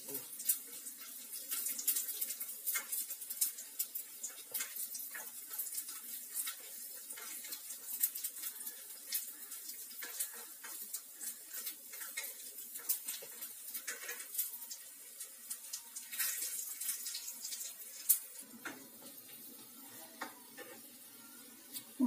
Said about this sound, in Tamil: அடுத்து பூண்டு வதக்கிக்கலாம்